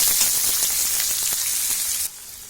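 Onion frying in oil in a pan for Khandeshi zunka, a steady close sizzle with scattered crackles and pops throughout, dropping slightly near the end; no talk.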